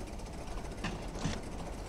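Idling diesel engine of a Class 122 railcar in a railway simulator, a steady low rumble with a faint rhythmic knock running throughout, moderately close, with brief hissy bursts partway through.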